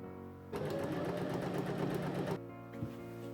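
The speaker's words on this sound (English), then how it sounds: "The flap is stitched to the pocket bag first." A sewing machine stitches a waistcoat pocket flap to its pocket bag for an 18th century waistcoat, running in one steady, close, rapid whir of just under two seconds before stopping, followed by a small click.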